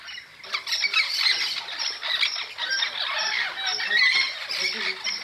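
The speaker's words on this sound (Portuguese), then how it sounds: "Tem tantos papagaios aqui hoje que eu tô admirado de ver." Dozens of parrots gathered in a tree beside the São Lourenço river squawk and screech continuously, a dense, loud chorus of overlapping calls with no pauses.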